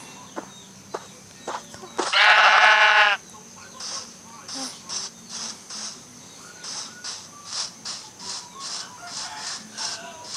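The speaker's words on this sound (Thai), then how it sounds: "เจอแกะเยอะครับ" Sheep in the Minecraft video game give one loud, wavering bleat amid soft footstep-like shuffling, followed by a run of short, regular clicking steps.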